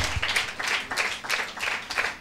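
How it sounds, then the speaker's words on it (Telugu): A gospel meeting congregation in Hyderabad claps hands together in a steady, rhythmic unison beat, about two claps per second, filling the room evenly with no voices over it. "చప్పట్లు కొట్టి దేవుని నామాన్ని మహిమపరుద్దాం"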